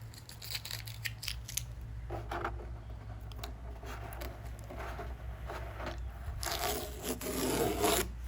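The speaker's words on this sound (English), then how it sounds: "we'll just take that masking tape away" Masking tape peeled from watercolour paper in a series of dry ripping and rasping strips, near and fairly quiet, growing slightly louder toward the end with no voices.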